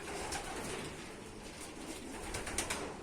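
Pigeons coo softly inside a loft, with low, continuous murmuring calls over a steady background hiss.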